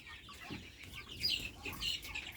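Twelve-day-old Ross 708 broiler chickens cluck and peep steadily up close, a busy flock chattering without pause and with no talk over it.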